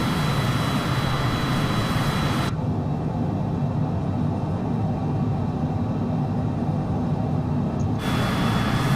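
A MiG-21 jet engine in Microsoft Flight Simulator 2020 roars steadily at high throttle, a loud continuous broadband rumble that dulls and muffles for several seconds mid-clip before opening back up.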